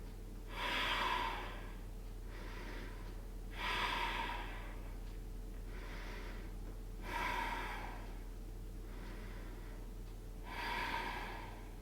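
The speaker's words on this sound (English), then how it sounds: "Deep breaths, connect with breath deep into the body here." Slow, deep breaths during a Pilates child's pose come as four long, airy inhale-exhale cycles spaced a few seconds apart, soft and close over a low steady hum.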